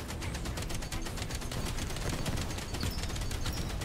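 Base turrets in Outpost Infinity Siege fire in dense, continuous rapid bursts, a steady rattling barrage with overlapping shots throughout and no pauses.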